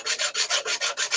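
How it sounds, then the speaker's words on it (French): A hand file rasping an object in quick, even back-and-forth strokes, about eight close, bright scrapes in a steady rhythm with no voices. "mon travail de limer ça"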